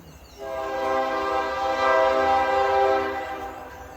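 A train horn sounds one long, steady, loud blast with a rich harmonic tone, heard fairly near and alone, then it fades slightly at the end.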